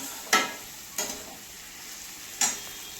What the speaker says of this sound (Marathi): मसाल्यामध्ये पनीर टाकले बरं का मी